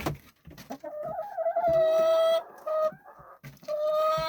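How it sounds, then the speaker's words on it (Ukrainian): Brooding hen sitting on a nest, giving drawn-out, tonal clucks and moaning calls, close and fairly loud, in several stretches broken by short pauses and softer rustling. "Квочечка сидить."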